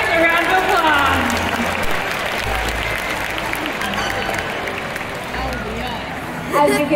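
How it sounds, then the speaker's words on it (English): Applause from the audience at a SeaWorld orca show fills the stands as a steady wash of clapping that stays even throughout, with crowd noise mixed in. "let's give our audience members a round of applause"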